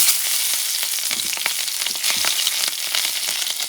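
Sweet peppers fry in hot oil turned down to medium-low, a steady close hiss with scattered crackles and pops running throughout, no talking.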